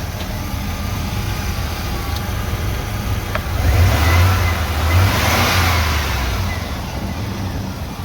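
GM car engine idling with an idle air control motor, a steady mid-pitched engine drone heard up close that swells slightly in the middle, with no speech over it.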